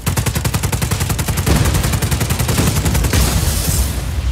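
Loud, continuous automatic gunfire in the video game Just Cause 4, with rapid bursts of shots hammering on with barely a pause throughout, close and dominant with no talking over it.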